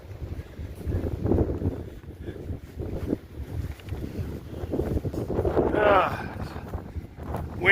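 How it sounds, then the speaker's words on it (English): Wind gusts across a mountain trail on the Appalachian Trail, a steady rushing roar that swells and buffets the microphone, with a brief sharper rustle near the end. "It's a windy day today"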